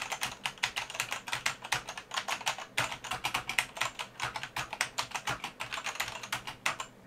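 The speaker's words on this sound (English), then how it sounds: "And the keyboard sounds like this." Fast, clacky typing on a vintage computer keyboard, a dense run of crisp key strikes with brief pauses, close and clear.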